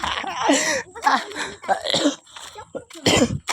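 Several short, harsh coughs come in bursts, close and fairly loud, with brief pauses between them.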